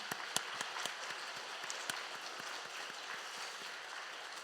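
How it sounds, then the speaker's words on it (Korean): Congregation clapping during a Korean church service, a faint, steady patter of many hands with occasional sharper claps, sustained throughout without voices. "우리 은혜 베푸신 하나님께 영광의 박수 올려드리겠습니다"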